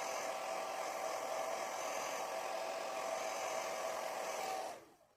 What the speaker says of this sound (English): I'm gonna dry just a little bit.